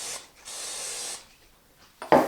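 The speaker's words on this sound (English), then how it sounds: "I'm just gonna spray this, 1 second, with some non-stick spray" Non-stick cooking spray hisses from a can into a pan in two short bursts, the first lasting under a second, followed by a sharper clatter at the end.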